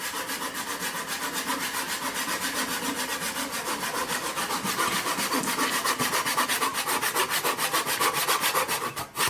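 Steady rhythmic back-and-forth strokes of a hand saw cutting through a piece of firewood outdoors by a campfire, close and continuous for the whole stretch with no talk.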